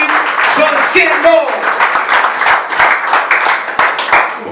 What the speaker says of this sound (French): Mes chers amis, veuillez applaudir chaudement Auguste Joskendo.